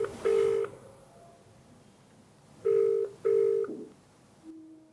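A telephone is dialed, giving a few short, clear keypad tones in separate bursts against a quiet background, ending with a soft lower tone.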